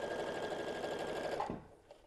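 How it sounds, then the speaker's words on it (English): Sewing machine stitching through a sample piece of fabric to bring up the bobbin thread, a steady close whirring run that stops abruptly near the end. "I'm gonna stitch through a sample piece of fabric so that I can bring up that bobbin thread"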